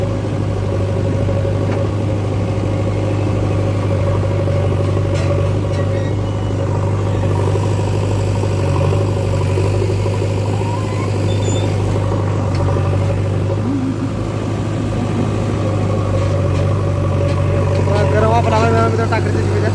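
A tractor engine runs steadily throughout at a loading site where soil is being filled, a loud continuous low drone with a strong steady hum, with voices talking over it.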